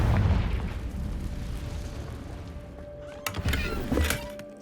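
A Confringo fire spell explodes in the Hogwarts Legacy video game, a deep rumbling boom that trails off, followed by a few sharp crackling bursts near the end, with no talk.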